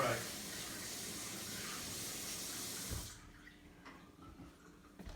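Tap water streams loudly into a Vitamix blender container for about three seconds, then cuts off, leaving quiet handling noises.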